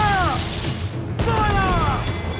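Ship cannons boom during a naval battle in Assassin's Creed 4 Black Flag, a sharp blast around the midpoint amid roaring sea and battle noise, with shouted voices and tonal calls over the mix.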